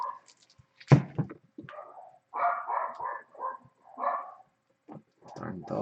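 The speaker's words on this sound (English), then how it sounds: "Darn dogs." Dogs barking in a home during a live soccer stream, a few scattered barks, one sharp and loud, among quieter stretches and some nearby talk.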